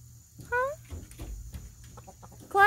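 Naked Neck hens on a farm give a few quick rising clucks, close and moderately loud, followed by softer shuffling and another burst of clucking at the end over a low background hum.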